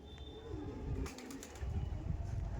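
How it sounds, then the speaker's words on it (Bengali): A male Andhra pigeon gives soft, low cooing murmurs close by, with a brief flutter of wings midway. No one speaks. "এই দেখুন পায়রা, এটা হলো নর পায়রা।"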